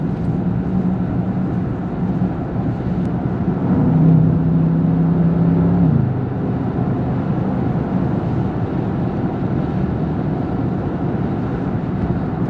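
Inside a 2021 Bentley Continental GT V8, a deep steady engine and road drone fills the cabin, swelling briefly with a low tone as the car accelerates, without speech.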